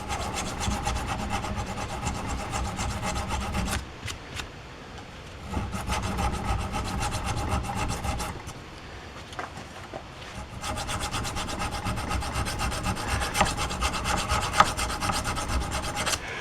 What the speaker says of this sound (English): So I just take a file.